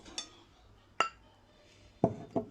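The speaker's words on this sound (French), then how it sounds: "Je transvide dans un bol." Royal icing is transferred into a bowl: a few sharp clinks of utensil against a dish, spaced about a second apart in a quiet kitchen.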